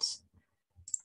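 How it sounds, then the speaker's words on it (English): Two quick computer mouse clicks, a short sharp tick at the start and another near the end, faint and isolated in an otherwise quiet room. "So double click on that."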